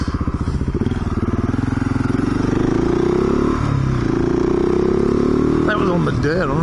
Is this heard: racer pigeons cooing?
no